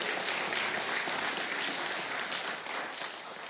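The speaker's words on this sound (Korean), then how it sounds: "저한테도 박수 한번 주시죠." An audience at a live gasa music concert claps in steady applause, dense and fairly even, fading slightly toward the end with no talking over it.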